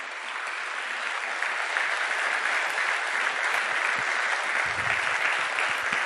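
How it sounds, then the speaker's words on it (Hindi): Audience applause at a company achievers' day event, a steady, dense roar of many hands clapping continuously at even loudness throughout. "एक बार जोरदार तालियां तो बनती है मैनेजमेंट के लिए"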